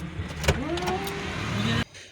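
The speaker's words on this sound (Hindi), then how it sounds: "लेकिन इतनी ट्रैफिक है कि रोड क्रॉस करना बहुत मुश्किल हो गया है" Road traffic passes close by, a car engine rumbling and whooshing past with a rising whine before cutting off abruptly near the end.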